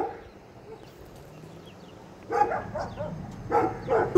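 A dog barks in short, sharp bursts outdoors during a tense confrontation, the loud barks coming in two clusters after a quieter stretch of background noise.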